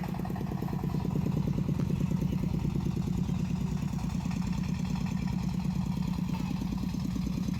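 A two-wheel farm tractor's engine runs steadily during the coffee harvest in Laos, putting out a close, continuous thumping putter at an even rhythm that holds for the whole stretch.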